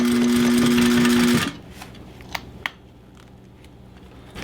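A sewing machine runs steadily, stitching fabric for a DIY tactical chest rig, then stops abruptly after about a second and a half, leaving a few faint clicks and handling taps in a quiet room.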